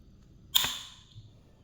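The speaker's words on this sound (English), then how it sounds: "I have a really small, tiny, strong flathead. I'm using to get under there and pry it up a little bit" A small, strong flathead screwdriver prying up a metal tab on a Mazda CX-7 during a power steering pump replacement: one sharp metallic click that fades quickly, quiet and close, with no talking.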